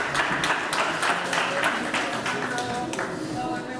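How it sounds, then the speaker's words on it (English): Audience applause at an OECD roundtable conference, steady clapping from a crowd throughout, with some voices and tonal sounds mixed in beneath the clapping. "I would like to request you a big round of applause for Maaike"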